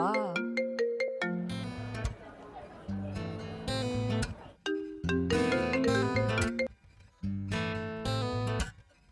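A phone's ringtone plays an incoming-call melody of bright synthesized notes in repeated phrases, loud and near, with brief pauses between the bursts.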